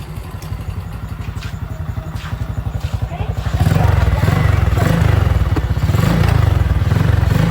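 A motorcycle engine idles with a steady rapid chug, growing louder and rougher partway through as it revs slightly, close by.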